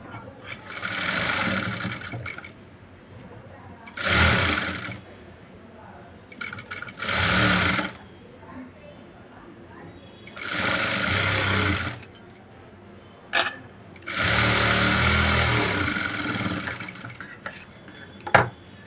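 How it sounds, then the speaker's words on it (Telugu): A sewing machine stitches fabric in five loud close bursts of rapid whirring, separated by short pauses with handling clicks and faint talk. "ఇప్పుడు పైన వచ్చేసి ఒక స్టిచ్ వేసుకున్నాను"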